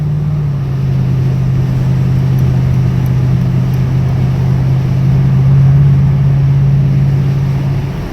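A 2007 Mercedes-AMG SL55 engine pulls hard under a bridge on a Friday night drive, a loud, steady low drone that swells and holds close throughout, with no talk.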